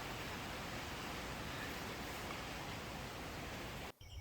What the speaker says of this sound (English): It is pouring, or getting close to pouring raining, and the only noise is coming from these panels